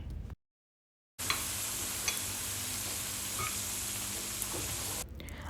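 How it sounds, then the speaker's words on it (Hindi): Two small potatoes cut into wedges fry in hot oil in a frying pan, giving a steady, even sizzle after a brief silence, with faint occasional pops and no voices. "मैंने एक फ्राइंग पैन में ऑयल गरम किया और उसमें 2 छोटे आलूओं को वेजेस में काट के उन्हें फ्राई कर लिया"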